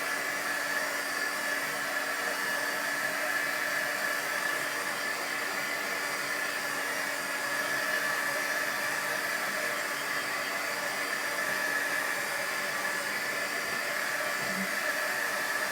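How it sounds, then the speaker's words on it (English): A small heat gun blows steadily at close range, drying watercolor fabric ink in a continuous, even airy roar that holds for the whole stretch, without talk. "I am going to use a little heat gun to heat it up and kind of dry that out before I go any farther"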